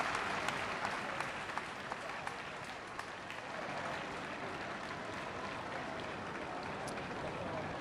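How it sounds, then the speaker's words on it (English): A packed crowd applauds at the Hong Kong Football Club during a soccer sevens tournament, a steady wash of clapping heard at a distance with faint voices mixed in. "a warm round of applause from the packed crowd here at the Hong Kong Football Club."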